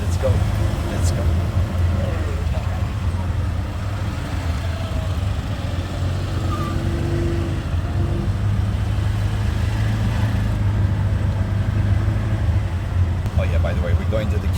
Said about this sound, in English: Traditional tuk-tuk.